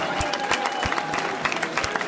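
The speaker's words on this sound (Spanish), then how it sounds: "Fuerte el aplauso para ellos." Audience applause at a community festival of Black towns in Múzquiz, Coahuila, honoring a dance group: dense, steady clapping from a crowd with a few sharper claps standing out, moderately loud and continuous.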